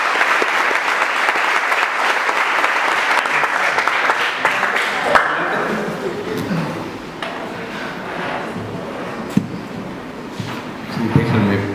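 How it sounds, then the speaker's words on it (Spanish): A university audience in Puerto Vallarta breaks into loud, dense applause that fades over several seconds into scattered claps, shuffling and murmuring voices of the crowd settling. "les pido de nuevo un fuerte aplauso para recibir de nuevo cuenta al doctor"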